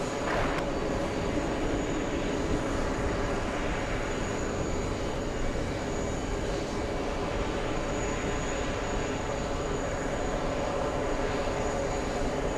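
Airplane noise at an airport, a steady broad roar of engines holding at one level for the whole stretch, with no talk over it.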